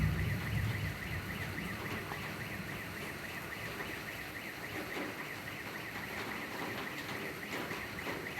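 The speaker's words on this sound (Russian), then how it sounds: "Аж сигналка сработала у кого-то." A car alarm triggered by a nearby thunderclap in Yakutsk sounds steadily in the distance, a faint repeating electronic tone over rain and storm noise.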